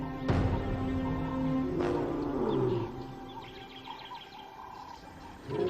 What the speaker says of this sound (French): elle les entend rugir pour signaler leur position